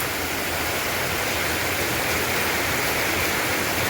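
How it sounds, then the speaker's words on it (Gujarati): Dense, loud rush of heavy rain pouring down without pause in Rajkot, a thick continuous hiss close by with strong wind adding to the wash of sound. "રાજકોટમાં થઈ ગયો છે વરસાદ ચાલુ ધોધમાર અને પવન સાથે"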